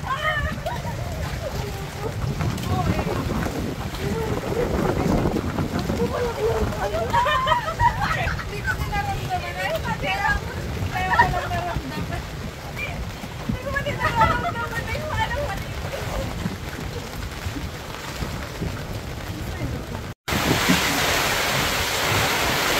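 A sudden squall at sea brings steady wind and surging waves while the group sits near the shore on a mud clam outing, and voices chatter throughout under the constant rushing noise.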